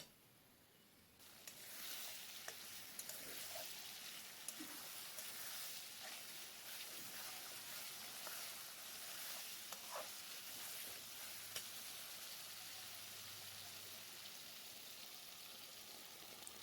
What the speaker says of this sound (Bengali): এবার খুব ভালো করে কষতে হবে মশলাটাকে